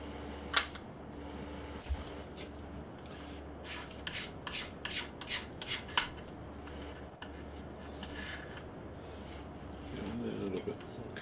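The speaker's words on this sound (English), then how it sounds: "I'm going to attempt to scrape clear some of my joints just to see how we get on with these" A scraper cleaning up joints on a plastic scale model, faint close rasping strokes in a quick cluster of short scrapes with scattered ticks, against a low fan hum.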